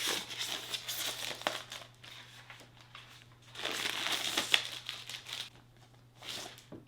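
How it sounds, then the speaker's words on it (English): Plastic wrapping crinkles and crumples as it is pulled off a new Shark IQ self-cleaning robot vacuum during unboxing, coming in bursts of close rustling with quieter pauses between them. "More plastic to take off."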